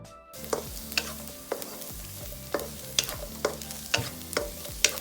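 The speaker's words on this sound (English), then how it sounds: "Saute just for a quick while, followed by your Chinese sausage." Garlic and Chinese sausage sauté in oil in a pan, with a low sizzle under a steady rhythm of distinct spatula scrapes and taps, roughly two each second, close and clear.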